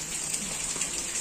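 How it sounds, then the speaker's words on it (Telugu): Rain falls steadily in a soft, even hiss with no other sounds over it. "ఇప్పుడు వర్షం పడుతుంది కదా"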